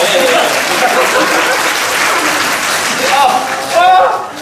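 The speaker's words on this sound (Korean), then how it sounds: "박수주세요." Audience applause after a performance of the stage play Trainspotting at a theatre talk-back, steady clapping filling the room for several seconds and swelling near the end, with faint voices mixed in.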